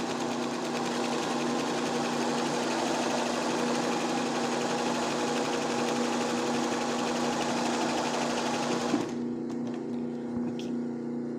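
Steady rapid hum and clatter of a sewing machine stitching a teddy bear embroidery, continuous and close for about nine seconds before the motor stops abruptly, leaving faint room noise.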